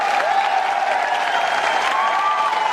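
Many people in an audience at a product-launch meeting keep applauding, a steady, loud, close clatter with a faint tonal hum running underneath.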